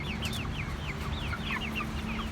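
Cornish Cross meat chickens cluck and chirp in repeated short, rising calls, close and steady over a low droning background hum.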